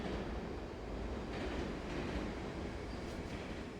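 Train station ambience from the video game Yakuza 4: a faint, steady rail rumble and clatter continue throughout without a break, with no voices.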